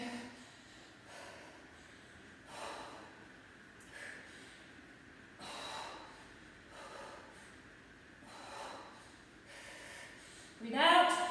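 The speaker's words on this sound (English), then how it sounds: "I apologise for my heavy breathing." Heavy breathing during a weight workout, slow rhythmic breaths and exhales repeating every couple of seconds close to the microphone, ending with a louder gasping burst.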